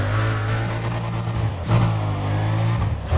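A car engine revving and accelerating hard in the Need for Speed: Undercover racing game, a loud steady drone that surges briefly midway, close and continuous.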